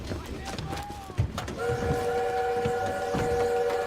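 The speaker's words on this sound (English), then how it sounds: "We need to stop that train!" Train in the Call of Duty WW2 game, heard as a steady rumbling run with a sustained whistle-like tone setting in partway through, loud and continuous under battle noise.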